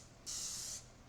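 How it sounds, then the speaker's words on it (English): Short hissing spray of olive oil onto ground meat cooking in a pan, a single steady burst of about half a second, close and clear over quiet kitchen background. "I'm just going to spray it with a little olive oil."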